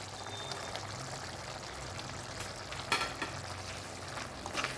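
Coriander powder is stirred into a simmering tomato curry in a pan: a soft, continuous sizzle with scraping stirs and a louder clack near the middle.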